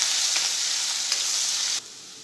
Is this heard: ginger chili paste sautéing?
yes